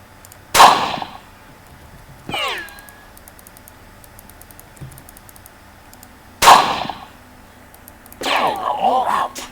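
Gunshots ring out in a weapon video game, two loud sharp cracks several seconds apart with a ricocheting whine and rattling mechanical clatter between and after them.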